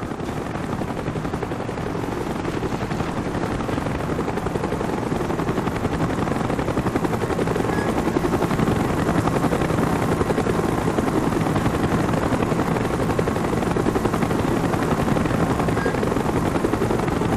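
Helicopter rotors drone continuously through a Call of Duty: Black Ops mission at the Baikonur base, with bursts of machine-gun fire mixed into the steady, loud wash of engine noise.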